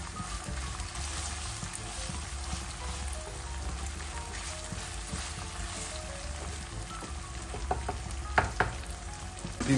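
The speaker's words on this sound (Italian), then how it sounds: "guardate come si sta attaccando il sugo sotto, guardate, lo stacco proprio con una spatolina e glielo faccio prendere tutto alla pasta" Spaghetti all'assassina fries in a pan with spicy sauce sticking to the bottom, a dense continuous sizzle with scraping from a small spatula and a few sharper clinks near the end.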